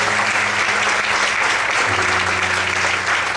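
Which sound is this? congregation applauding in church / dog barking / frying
congregation applauding in church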